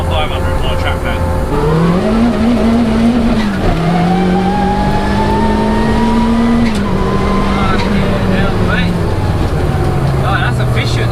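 Peugeot 106 turbo making about 340 bhp spinning its wheels in first gear, engine note climbing and holding high with tyre squeal, loud and close, with talk over parts of it.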